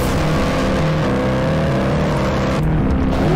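A 2019 Jaguar F-PACE SVR in sports mode, heard from inside while driving, its engine giving a loud, steady low growl with layered harmonic tones throughout.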